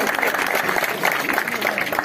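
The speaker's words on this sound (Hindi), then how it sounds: "सभी जोरदार तालियों से।" A crowd at a village gathering welcoming guests on a BJP Vikas Yatra claps vigorously, a dense rattle of hands mixed with voices speaking over it.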